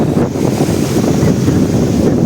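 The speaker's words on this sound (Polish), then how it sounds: "i taka dość wzburzona woda" Rough sea water churns and crashes steadily at a sandy beach in Santa Pola, Spain, while wind buffets the microphone, a continuous dense roar with no voices.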